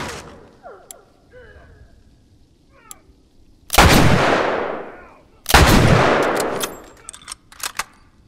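Two loud, booming rifle shots in The Last of Us Remastered video game ring out a couple of seconds apart, each with a long reverberant tail, followed by lighter clatter and scattered faint game sounds.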